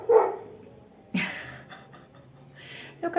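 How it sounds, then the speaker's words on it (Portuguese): A dog barks indoors in short bursts, one sharp bark at the start, another louder one midway and a third at the end, separated by quiet gaps with faint breathing-like noise. "Meu cachorro resolveu latir"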